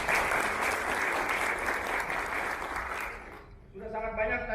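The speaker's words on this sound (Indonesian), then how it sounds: "Aplaus dulu" Audience applauding at an Indonesian union event held in a hotel, a dense steady clapping that fills most of the moment before fading out, with a voice taking over at the end.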